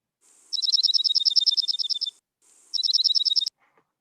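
Dark-eyed junco song recorded by acoustic monitoring in the northern Great Basin: two rapid, even trills of bright chipping notes, the first about one and a half seconds, the second shorter, clear and alone against silence.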